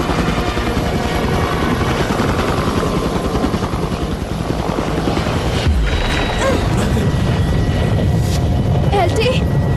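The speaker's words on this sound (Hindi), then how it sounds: "देखो वो हेलीकॉप्टर है।" A helicopter flies overhead in a desert setting, its rotor chop and engine drone loud and continuous, swelling and shifting in the second half as it passes.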